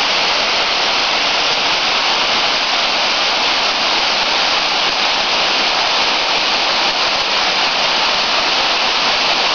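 Steady, dense roar of a waterfall, broadband and continuous at close range with no pauses, filling the whole span on a clear December day.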